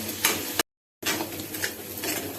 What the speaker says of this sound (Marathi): आता हे वाटण तेलामध्ये परतून घ्यायचं